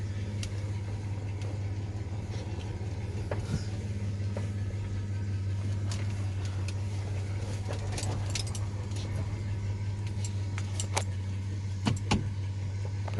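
A Chevrolet S10 pickup truck drives with its newly repaired drive shaft, giving a steady low engine and road drone from inside the cab. A few faint clicks and light rattles sit on top of the drone.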